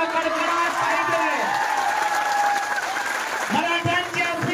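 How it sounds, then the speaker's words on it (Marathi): A crowd applauds a welcome at a Maratha community political rally, the clapping continuous beneath a loud amplified voice speaking over it. "टाळ्यांचा कडकडाट पाहिजे।"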